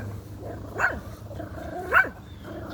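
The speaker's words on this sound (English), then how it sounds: "Don't you be barking at me." A dog gives two sharp barks about a second apart, close and clear over a quiet low background hum.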